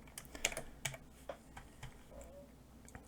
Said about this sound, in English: If we just start typing that